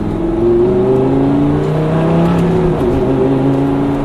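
Lamborghini Gallardo with no mufflers accelerating at night, a loud close engine roar with rising revs and shifting pitch, heard from inside the car without talking.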